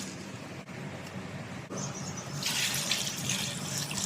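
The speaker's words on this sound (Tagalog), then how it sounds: "Ito yung hugasan natin. Tatanggalin natin yung dumi." Water runs from a kitchen tap while beef is rinsed for a nilaga stew, a steady splashing stream that grows fuller and brighter partway through as the flow hits the meat and basin.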